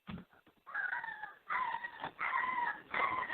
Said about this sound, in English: Sounds like your dog got injured.